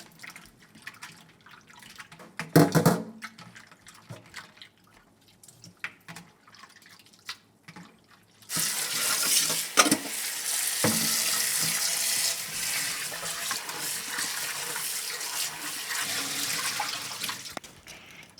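Pollock roe is washed in a kitchen sink, with faint drips and small handling sounds at first, then the tap opens into a loud, steady rush of running water with splashes until the end.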